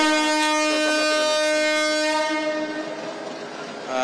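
A railway train passing on the line sounds its horn in a loud, sustained blast that holds for a couple of seconds and then fades, with the rumble of passing carriages underneath.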